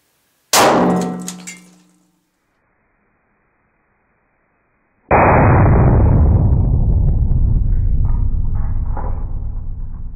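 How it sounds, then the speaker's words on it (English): A Glock 23 Gen 4 pistol with a 22-round magazine fires at a smartphone: one sharp, loud metallic crack that rings and fades over about a second, followed after a pause by a sustained loud roaring rush of wind-like noise. "So that was my Glock 23 generation 4 with a 22 round magazine"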